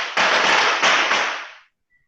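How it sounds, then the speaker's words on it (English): Firecrackers go off in a residential neighborhood: three or four sharp, loud bangs in quick succession, each with a short echoing tail, then a fade into near silence. "Is that the firecrackers in your neighborhood?"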